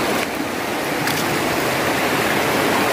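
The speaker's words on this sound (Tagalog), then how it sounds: "Oh, yan, malakas yung tubig." Strong river water rushes past a riverbank a day after flooding, a loud, steady broadband roar close by, continuous and alone with no talk.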